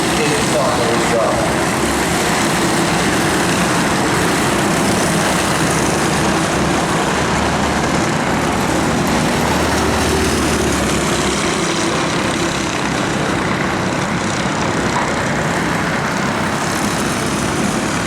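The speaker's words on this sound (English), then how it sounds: "check the flag time now as the cars come round for the last time." Mini sprint race cars race around the Arena Essex oval during a final, their engines roaring loud and constant as the pack passes, under a commentator's voice.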